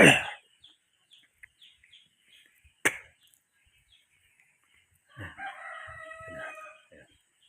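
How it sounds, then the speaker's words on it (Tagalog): A rooster crows distantly at dawn at the start, a sharp thump lands in the middle, and a second crow rises later among faint rustling. "tilaok yung mga manok doon"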